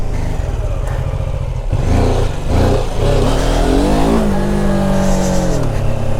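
BMW F450 GS motorcycle engine held on the throttle in the clutch friction zone while stopped on an incline, a close, steady low engine note with small rising and falling throttle blips and a faint voice underneath.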